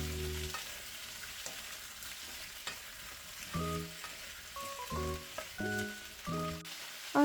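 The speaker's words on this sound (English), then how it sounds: "we're going to add some more olive oil, and we're going to start sauteing our potatoes and carrots" Potatoes and carrots sautéing in olive oil in a pot give a steady, close sizzle with occasional stirring, while tonal music-like notes sound over it in the second half.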